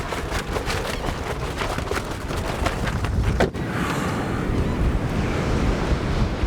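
Heavy surf rolls steadily onto a Padre Island National Seashore beach while strong wind buffets the microphone, a loud, continuous roar with no voices.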